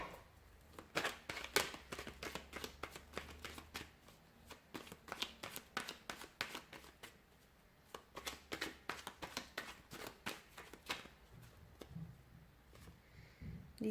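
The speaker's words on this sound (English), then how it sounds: "So we'll give the cards a shuffle" Tarot cards being shuffled by hand, a quiet, close series of quick riffling and snapping bursts repeating in irregular rhythm with brief pauses, heard alone.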